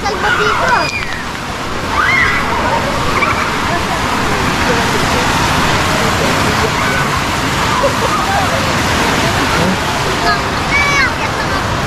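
River water flows and sloshes steadily near the listener in a broad, continuous rush, with people's voices faintly mixed into the background.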